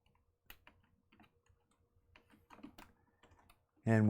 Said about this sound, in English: I'm going to type them in